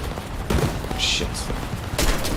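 Aircraft cannons fire during a dogfight in War Thunder, short rapid bursts over a constant loud engine roar.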